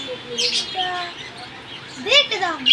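Small caged birds chirp and tweet inside a shop selling birds and rabbits, with short bright calls scattered across a few seconds and a busier burst of chirping near the end, a voice faintly present nearby.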